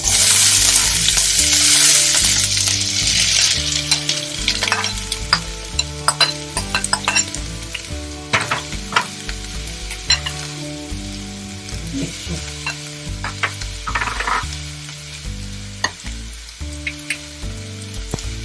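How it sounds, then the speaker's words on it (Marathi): Onion drops into hot oil and gives a loud, bright sizzle. The frying settles into a crackling hiss, with scattered pops and occasional stirring over a background of music. "तेल आपलं गरम झालेलं आहे, आता कांदा टाकूया."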